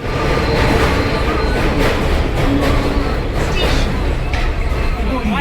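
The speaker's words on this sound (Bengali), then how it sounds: "আমরা স্টেশনে উঠতে সঙ্গে সঙ্গে একটা ট্রেন এসেছে" A train pulls into a railway station platform, a loud continuous rumble with rattling wagons and clatter, while a crowd murmurs and voices talk throughout.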